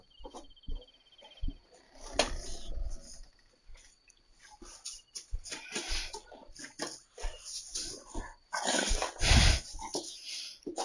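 A dog in the hunting video game The Hunter: Call of the Wild whimpers and fusses in short bursts, mixed with snuffling and light movement, over a steady insect-like chirping ambience.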